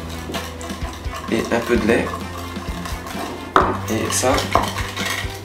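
Egg yolks and milk being whisked into a gluten-free strawberry tart batter in a bowl, with quick clinking utensil strokes and scraping under a speaking voice.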